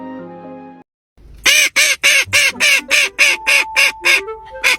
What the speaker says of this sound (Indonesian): Ini adalah bebek termahal dan terimut di dunia bebek karena ini adalah bebek.